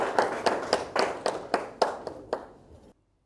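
A small audience claps at an Easter mushaira, a brief burst of about ten separate, fairly sharp claps that fade out abruptly into silence, with no voices over them.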